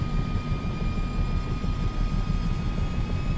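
An aircraft engine in Microsoft Flight Simulator 2024 hums as its power returns, a steady low droning rumble that stays constant throughout with no voices.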